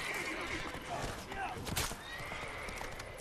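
Geralt's horse Roach neighs loudly and gallops in The Witcher 3 during an ambush chase: a clear whinny rises mid-clip over quick clip-clopping hoofbeats, with game voices talking and background action throughout.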